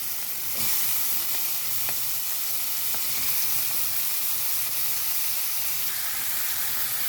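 Sliced bitter gourd sautéing in a hot pan, with shrimp and egg to follow, gives a steady, fairly loud broadband sizzle throughout and a few faint clicks of stirring, with no voices.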